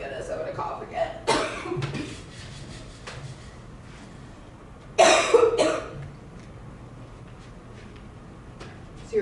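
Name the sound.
cough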